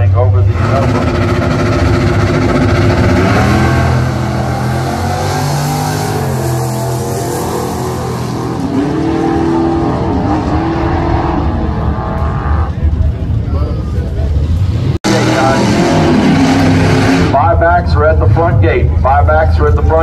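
A Ford Mustang and a Chevy launch at a drag strip, loud engines roaring and revving continuously, with an announcer talking over them throughout.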